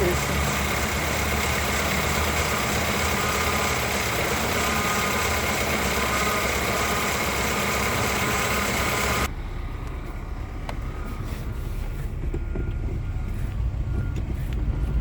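Car idling at a mechanic's, the car having been given the wrong brake hydraulic fluid: a loud, steady, close engine drone that holds throughout, its tone dropping and roughening partway through.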